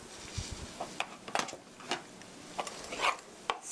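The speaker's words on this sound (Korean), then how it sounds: "썰어 놓은 김치 넣어주시고요" Chopped kimchi going into a pan of pork seasoned with soy sauce for a Korean stir-fry, heard as soft scattered scrapes, clinks and rustles of utensils on cookware, fairly quiet and close.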